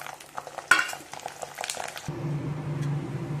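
Peeled garlic cloves tossed into hot oil for prawn pickle, with a first stretch of scraping and clinking utensil noise, then a steady, close sizzle of frying that holds to the end.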